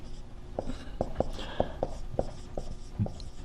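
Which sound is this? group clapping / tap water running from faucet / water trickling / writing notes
writing notes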